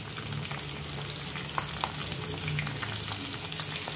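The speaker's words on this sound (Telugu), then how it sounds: "ఆవాలు జీలకర్ర అవి కొద్దిగా వేగాలి" Mustard seeds and cumin frying in hot oil for a tempering give a steady, close sizzle sprinkled with small crackles and pops.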